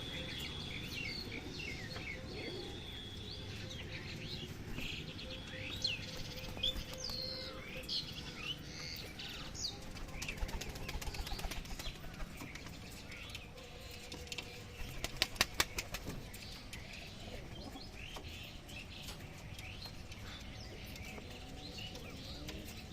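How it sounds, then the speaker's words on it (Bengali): Domestic pigeons in a loft make soft chirps and coos over a quiet background, with a brief cluster of fluttering wingbeats and scuffling midway and faint insect-like trilling throughout. "এই যে এটা মাটি পায়রা"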